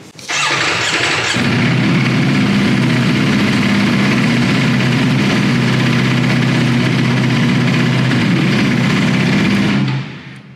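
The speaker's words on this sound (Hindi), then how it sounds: "अब ये देखिए कि ये जो बाइक है पैनिगले V4 और जो V4S है उनके साउंड में कितना डिफरेंस है" A Ducati Panigale V4 superbike engine starts and roars loudly at high revs, a sustained, steady growl that holds for several seconds before cutting off.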